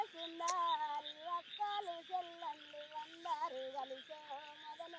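Frogs croak in a repeated, rhythmic chorus of throaty calls, fairly close and clear over a quiet background, with no talk.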